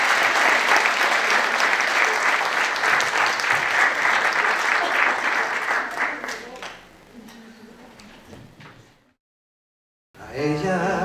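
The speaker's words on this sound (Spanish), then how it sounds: "Más fuerte ese aplauso, María." Loud, sustained applause from a congregation at a novena for the Virgin of Fátima, fading down, then a short silence before a voice begins speaking.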